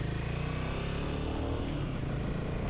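A Royal Enfield Himalayan 450 motorcycle is ridden around the block, its engine a steady, close, loud drone with even throb throughout and no talking.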